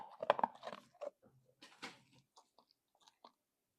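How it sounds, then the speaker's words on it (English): A dog crunches biscuits up close, with loud crisp bites and chewing in irregular bursts that grow sparser and fainter, with short silences between them. "The dog is alive with the sound of biscuits"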